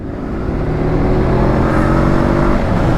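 A 2019 Honda CB500F motorcycle accelerates hard alongside a tractor, its engine note loud and close as it rises in a sustained roar with no voices.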